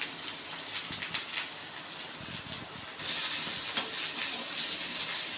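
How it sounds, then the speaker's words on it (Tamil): Chopped onions sautéing in a pan for Tamil avarakkai (broad bean) poriyal, a continuous hissing sizzle that jumps noticeably louder partway through and then keeps frying steadily. "ஸோ வெங்காயம் நல்லா வதங்கட்டும்."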